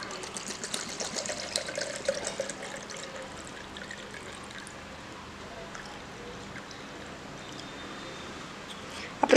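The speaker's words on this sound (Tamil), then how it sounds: "இப்போ நம்ம இந்த ஐசோப்ரோஃபைலில் வந்து 1 கப் நம்ம ஊற்றிக்கலாம்." Isopropyl alcohol pours into a cup on a tabletop, a steady soft trickling stream that runs most of the stretch at low level, with faint background noise and a brief louder clatter at the very end.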